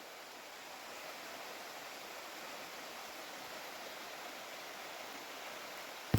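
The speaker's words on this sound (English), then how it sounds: "Very cool waterfall." Cotting Hollow's waterfall pours with a continuous broad rushing hiss, steady and moderately distant, with no voices and a brief knock at the very end.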